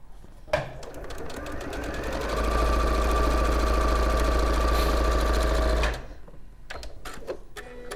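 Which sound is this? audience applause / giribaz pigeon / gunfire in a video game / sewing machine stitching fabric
sewing machine stitching fabric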